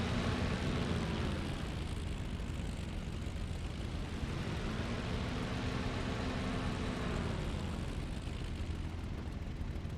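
A Bf109 fighter's piston engine drones steadily through its takeoff run in a flight video game, loud and continuous, with a slowly shifting tone and no voices.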